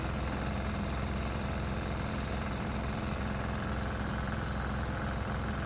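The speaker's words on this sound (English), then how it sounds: "Ah yes, the engine is not happy." A 196 cc, 3 hp diesel engine labours under strain, its governor holding speed, giving a steady, loud, close-up drone with a rough knocking pulse that runs unbroken throughout.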